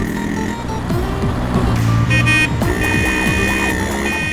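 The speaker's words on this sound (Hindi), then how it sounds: "अरे ये तो प्रिंसिपल की गाड़ी है।" The principal's car pulls up outside a school, its engine rumbling loudly and close, with bright tonal beeps and horn-like tones layered over it for several seconds and no one speaking.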